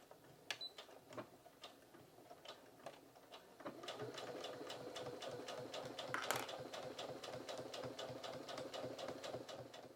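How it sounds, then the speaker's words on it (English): Sewing machine stitching the side seams of a vest at a half-inch seam allowance, starting with a few separate clicks and then settling into a continuous, even mechanical whir that runs close by until the end. "Then stitch the sides together at a 1/2 inch seam allowance."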